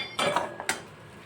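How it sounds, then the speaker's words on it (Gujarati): Fried golden-brown cashews being moved onto a plate make a few sharp clinks of a metal spoon against dishware, then fade to quiet. "ગોલ્ડન બ્રાઉન થઈ ગયા છે એટલે એક પ્લેટમાં કાઢી લઈશ કાજુને"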